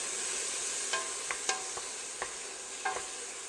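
Fresh chopped tomatoes cook down in a pan with a steady soft sizzle, broken by a few sharp scrapes and taps of a spoon stirring, close and alone with no talk.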